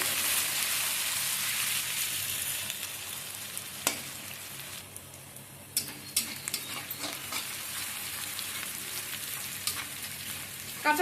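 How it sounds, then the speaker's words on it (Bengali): Spices fry in fat in a pan for jackfruit curry, a steady close sizzle that eases midway, broken by a few sharp scraping and stirring knocks, with no voice over it. "মশলাগুলো আমি খুব ভালোভাবে ভেজে নিলাম"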